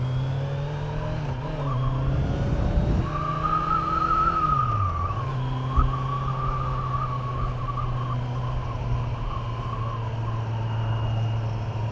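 A Kawasaki Z900 motorcycle engine hums steadily while riding, swelling and dipping in pitch as the throttle shifts mid-ride, loud and continuous with faint wind, and no talking.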